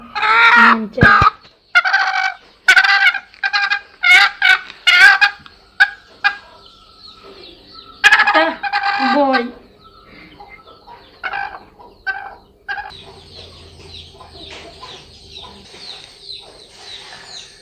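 Backyard poultry hens and a rooster give a run of loud, close clucks and squawking calls in an irregular rhythm. The calls grow sparser and fainter toward the end.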